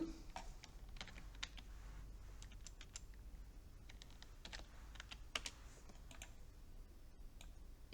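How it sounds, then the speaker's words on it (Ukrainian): Keys clatter on a computer keyboard as values are entered into a spreadsheet, with quick irregular clicks and short bursts, close and fairly quiet over a faint steady hum, with no talking. "Так, вводимо тут P1."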